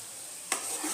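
Fried prawns drop into a raw jackfruit curry in a pan and are stirred through, giving a sudden wet clatter followed by a soft steady sizzle and faint scraping, close by with no talk.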